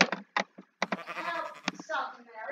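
Sheep in the video game Minecraft bleat in a few short, bright, rhythmic bursts, clear and close, with a longer wavering call near the end.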